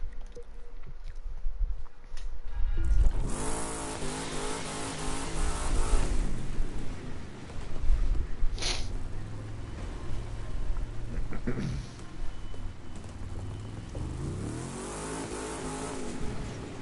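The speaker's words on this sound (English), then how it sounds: "you can drive these vehicles around and they're incredibly quick" A car engine in the racing game The Crew 2 revs hard and climbs through the gears in repeated loud, rising surges, with a voice speaking over parts of it.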